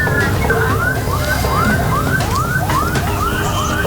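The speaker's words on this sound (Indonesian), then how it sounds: "Meski telah diperingatkan dengan sirine, pelaku tak juga memberikan jalan untuk ambulans." An ambulance siren in Depok, Indonesia, wails loudly and close with a fast, repeating rising yelp over road and traffic noise. No one speaks.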